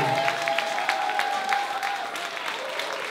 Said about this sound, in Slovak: veľký potlesk pre Peťku